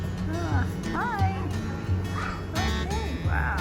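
Shih Tzu yapping and barking repeatedly in short high-pitched bursts, with people talking over it nearby.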